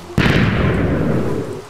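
A loud explosion in the Minecraft game goes off suddenly after a brief quiet moment, a sharp blast followed by a long rumbling roar that slowly fades, with no voices.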